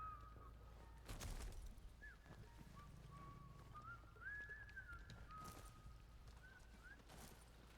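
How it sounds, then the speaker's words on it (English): Characters whistle a wandering tune in the game Atomfall, the melody thin and moderately distant, drifting up and down over quiet ambience with occasional clunks and footfalls. "I like how everyone whistles, you know, you're really being stealthy by whistling."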